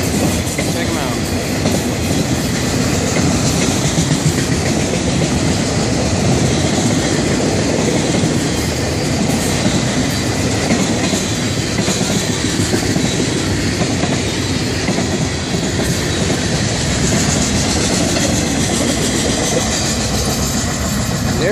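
A long FEC freight train, Train 202 with locomotive #1556, rolls past close by with continuous loud rumble and clickety-clack of wheels on rails, steady for the whole span.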